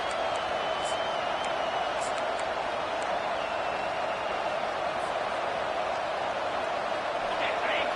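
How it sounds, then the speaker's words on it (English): A home crowd at a football game roars steadily and loudly as the defense tries to get off the field on third down, a dense wash of cheering that holds for several seconds. "Here comes this home crowd as the defense tries to get off the field on third down."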